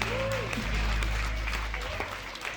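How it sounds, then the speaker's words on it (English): Wedding guests applaud at a reception, a steady wash of clapping from the room with a sustained low hum and some voices mixed in. "Let's give them a big round of applause."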